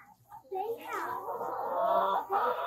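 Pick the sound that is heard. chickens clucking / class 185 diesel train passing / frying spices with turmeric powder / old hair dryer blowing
chickens clucking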